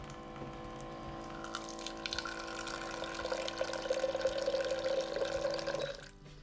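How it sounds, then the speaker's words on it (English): A button-activated drinking water dispenser in an RV fills a jug, giving a steady, soft stream of running water that builds slightly in pitch as the container fills, then cuts off abruptly near the end. "we just press the button and it dispenses water."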